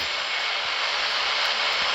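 An airplane engine roars during takeoff, heard from inside as a loud, steady, broad rumble and whine that fills the whole stretch without any talking.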